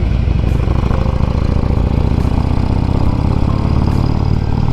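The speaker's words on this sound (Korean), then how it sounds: "바이크를 타고 이렇게 올라가니까 이렇게 라이딩 하는 기분이 아니라 이렇게 등산하는 느낌입니다" A motorcycle engine climbs uphill on a winding mountain road, with a loud, close, continuous throbbing rumble and a steady engine note throughout and no talking.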